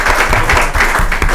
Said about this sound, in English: Yes, applause for Matt